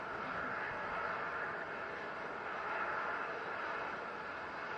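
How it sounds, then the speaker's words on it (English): A rocket first stage burning liquid hydrogen and liquid oxygen during a Mars mission launch, heard as a faint, steady, distant broadband roar with no voices. "we will have powered flight of the first stage, burning liquid hydrogen and liquid oxygen"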